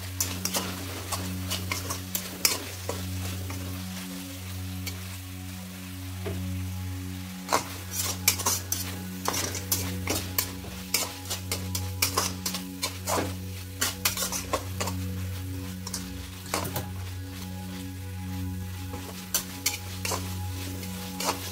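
Cauliflower for Gobi 65 being stirred in a pan with frying soy sauce and chilli sauce, a steady low sizzle under repeated clinks and scrapes of a utensil against the pan, with no talking.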